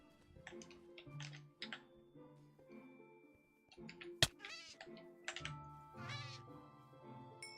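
Several sharp, close cat meows in a Minecraft-style video game, set over clicky computer-keyboard typing with faint background game tones and a sudden loud click.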